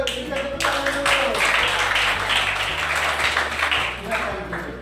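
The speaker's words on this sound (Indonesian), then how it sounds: "kita berikan tepuk tangan dulu" Schoolchildren clap together in a classroom after a lesson, a short burst of quick, fairly close applause over a low background hum, with voices present.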